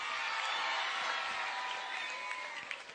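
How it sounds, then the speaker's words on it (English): An audience applauds at an informal gathering where children do push-ups, giving a steady, dense wash of clapping with some crowd noise that holds for about three seconds and eases slightly at the end. "Let's all give applause."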